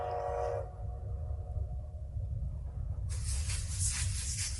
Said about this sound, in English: So, Gunny, bring that train in